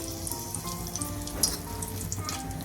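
A bay leaf dropped into hot oil for a Marathi spiced lima bean rice, giving a faint, soft sizzle with scattered small pops and a brief crackle midway, quiet and steady throughout.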